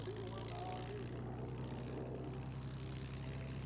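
Propeller fighter planes with throaty piston engines drone steadily at an air show, a continuous low rumbling hum holding at moderate distance with no sharp changes throughout.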